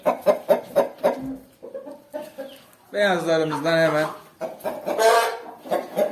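Chickens and roosters in a newly built coop cluck and call loudly at close range, with one drawn-out crow-like cry in the middle, while someone talks over them.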